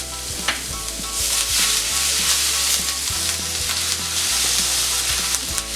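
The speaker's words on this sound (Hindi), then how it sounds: "तेल गरम हो गया है, इसमें चॉप किया हुआ अदरक और लहसुन डालेंगे" Chopped ginger and garlic sizzle steadily in hot oil in a pan, a loud, continuous frying crackle with intermittent stirring clanks, close and without any voices.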